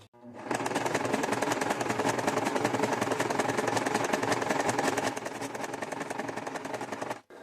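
A sewing machine runs a triple zigzag stitch along the side of a seam as a decorative finish, a steady, fast mechanical chatter that starts abruptly and keeps going for about seven seconds at close range, easing slightly toward the end.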